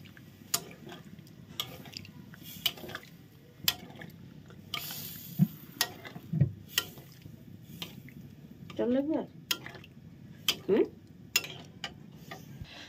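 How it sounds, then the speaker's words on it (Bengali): Spoon stirring spiced paneer curry in a pan makes a scattered series of soft wet clicks and scrapes, fairly faint, with a few brief bits of voice in between. "দিয়ে এখন ভালো করে নেড়ে মশলার সঙ্গে মিশিয়ে দিচ্ছি"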